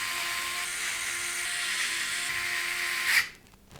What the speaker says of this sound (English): We can then secure the power supply into place with 4 of the larger screws from the case accessory box.